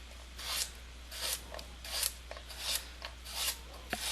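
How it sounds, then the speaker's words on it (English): Knife chopping carrots on a cutting board, rhythmic thuds and scraping strokes about twice a second, close and fairly loud, no voices. "my cutting board is being very loud"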